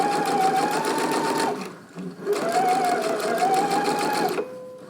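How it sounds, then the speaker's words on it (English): A sewing machine runs a second row of gathering stitches through fabric in two long, even bursts separated by a brief pause, close and loud with no talking. "I'm going to stitch the other one, and again I'm going to come in closer inside the seam allowance"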